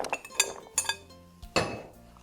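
Pieces of seasoned butternut squash being spread onto a prepared baking sheet give off a few close, sharp clinks and scrapes against the metal pan, with quiet pauses between them.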